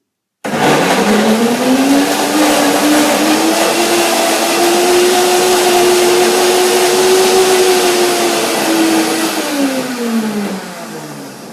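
A blender whirs loudly and steadily for about ten seconds, its motor pitch rising slightly then dropping as it winds down.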